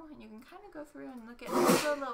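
A sudden sneeze bursts out right after a woman's speech, loud and close, with a sharp noisy release at the end of her talking.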